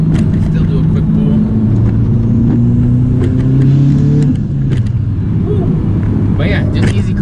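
Mitsubishi Evo engine in a quick pull, loud in-cabin rumble with rising revs through a gear before easing off, road noise underneath.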